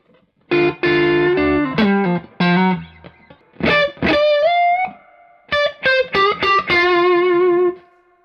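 Fender Telecaster electric guitar played in short bright phrases, plucked notes and quick runs with pauses between, close and fairly loud.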